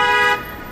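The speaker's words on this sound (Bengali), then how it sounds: "হর্ন দিচ্ছে" A taxi gives one short, loud, blaring honk of its horn that cuts off abruptly after a third of a second, with no other sound around it.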